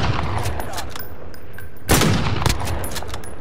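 Shots ring out in Call of Duty Cold War on Rebirth Island in Resurgence mode, scattered rapid gunfire with a louder, heavier blast in the middle, all set against steady game ambience.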